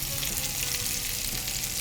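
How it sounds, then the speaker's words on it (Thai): Steady, close sizzling of bacon frying in a pan, with a dense crackle and spit that runs without a break. No one speaks. "เดี๋ยวเราจะค่อยๆทอดแล้วก็พลิกๆไปเรื่อย ๆ นะคะ"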